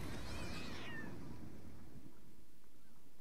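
A cat meows once in the pirate video game Sea of Thieves, a short, fairly loud falling cry at the start that fades into low ambient game noise.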